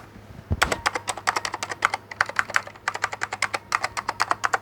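Someone types on a 1987 Apple IIGS keyboard, a rapid, irregular run of crisp, close key clicks with short pauses between bursts.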